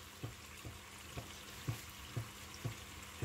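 Mutton karahi masala frying in a pan gives a steady low sizzle, broken by soft regular knocks about every half second as it is stirred, quiet and close, with no talk.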